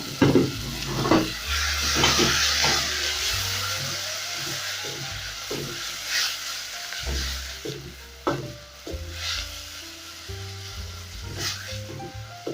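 Chicken curry ingredients fry and sizzle steadily in a pan while a spoon stirs them, with repeated scraping knocks against the pan over a constant loud hiss and no talk.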